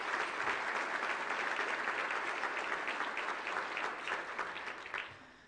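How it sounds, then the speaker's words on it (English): A large audience at a city address gives a sustained round of applause, dense steady clapping that fills the room for several seconds before thinning out at the end. "Let's give them a round of applause."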